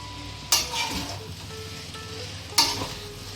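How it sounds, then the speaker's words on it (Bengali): Chow mein sizzles in a hot pan on a gas flame after soy sauce goes in, with two sharp bursts of frying as the noodles are stirred and a steady crackle in between, heard up close with no talking. "সোয়া সসটা অ্যাড করে দিলাম এবার একটু জাস্ট নাড়বো ভালোভাবে একটু ভাজা ভাজা হবে"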